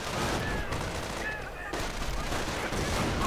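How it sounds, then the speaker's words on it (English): Mortar rounds and gunfire in a WWII strategy game, a dense, loud, continuous battle din of rattling shots and blasts with faint whistling tones, close and unbroken. "And mortar rounds flying, killing what looks like a medic."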